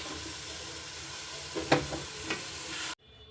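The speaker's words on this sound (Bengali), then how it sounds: "এই যে আমি তেল দিয়ে আগে মাছটা ভেজে নিচ্ছি" Fish (kali fish) frying in oil in a pan for an onion-based curry, giving a steady close sizzle with a few brief stirring clatters near the end before the sound abruptly cuts off.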